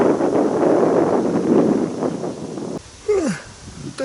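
Wind buffets a microphone in heavy gusts on a boat drifting in October taiga, then drops away briefly before a gust returns.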